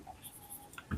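Chalk or marker writing on a board during a physics lesson, brief faint scratchy strokes in a quiet room, ending with a small knock.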